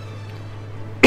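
A single short cough bursts out near the end after a second of quiet background hum, close and fairly loud.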